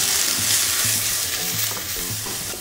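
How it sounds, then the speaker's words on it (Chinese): Salted fish stir-fries in a wok, with a bright steady sizzle broken by repeated rhythmic spatula scrapes and stirring strokes, close and loud, with nobody speaking. "把咸鱼下锅炒一下，"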